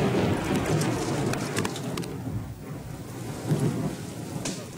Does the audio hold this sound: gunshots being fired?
no